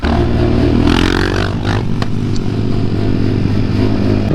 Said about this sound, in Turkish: Motorcuları da hiç sevmem ya. Öyle geziyorlar, ses yapıyorlar, bir de egzoz takıyorlar.